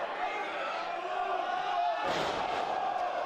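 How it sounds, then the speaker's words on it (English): A professional wrestler crashes onto the mat in a fallaway slam during a match between Drew Galloway and Tommaso Ciampa. A sharp, heavy thud lands midway through, over a roaring crowd and live commentary. "A fall away type slam."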